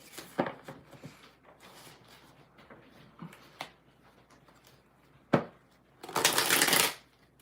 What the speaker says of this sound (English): I'm trying to get it to shuffle, Jasmine. It feels like these cards are constipated